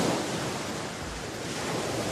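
Large ocean waves crash onto a beach in a continuous, loud roar of surf and rushing water, with some wind noise on the microphone throughout.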